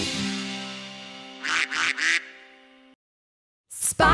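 A cartoon-style duck quacks three times in quick succession in a children's phonics song, backed by a sustained musical tone, then a brief sharp burst of sound follows after a short silence.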